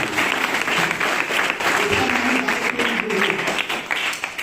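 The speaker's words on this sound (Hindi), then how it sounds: "जोरदार तालियां हो जाएंगी।" An audience at a motivational business seminar breaks into loud, sustained applause, dense clapping from many people continuing evenly throughout with no voices on top.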